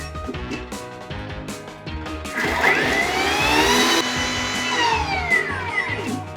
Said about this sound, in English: Kita kasih blend dia.